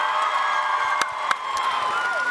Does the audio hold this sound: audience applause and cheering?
yes